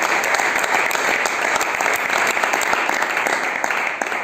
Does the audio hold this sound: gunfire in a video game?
no